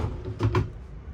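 Two quick wooden knocks sound close together as a dresser drawer in a 2025 Jayco Eagle 360DBOK fifth wheel trailer is slid and bumped shut, with a low steady hum underneath.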